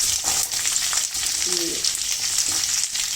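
Green chili, ginger, cashew and tomato sizzle steadily in a hot pan, a continuous bright frying hiss with faint stirring scrapes, close and fairly loud throughout.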